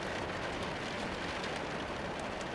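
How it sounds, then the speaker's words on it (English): Steady rain falls with a dense, even hiss of raindrops, soft and unbroken throughout, with no voices over it. "The hypnotic raindrops clear your thoughts and soothe each muscle on your face."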